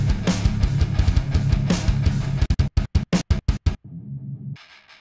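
Music given percussive cut-aways with a high pass filter: a full dense beat suddenly breaks into short chopped bursts, then drops to a thinned, filtered tail.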